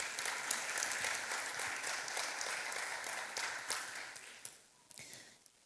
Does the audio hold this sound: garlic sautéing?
no